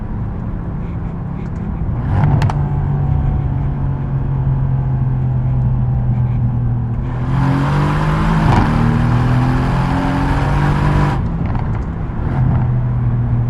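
A sports car's engine idles with a deep, steady hum, then climbs into a loud, gruff rev for several seconds before dropping back to idle, heard close by.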